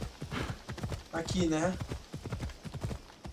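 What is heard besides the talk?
horse hooves in video game Assassin's Creed Odyssey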